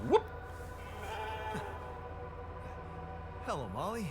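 Sheep in a video game bleat briefly at the start and again near the end, wavering cries over a steady low background hum.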